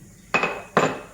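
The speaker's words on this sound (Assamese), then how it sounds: "মই নহৰু বাকলিৰ সৈতে থেতালোঁ প্ৰায়ে।" Garlic cloves, still in their skins, are crushed with two sharp, hard knocks spaced under half a second apart, each with a short clattering ring, heard close and alone.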